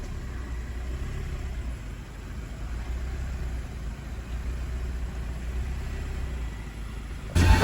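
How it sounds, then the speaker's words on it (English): A car engine runs at a steady low idle, a continuous quiet rumble with no voices, ending in a brief louder bump. "The car is running."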